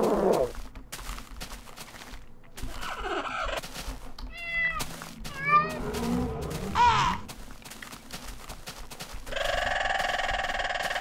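Several meows from a cat in the video game Minecraft, short and rising, coming in a loose run through the middle of the stretch, with other game sounds around them and a steady tone near the end.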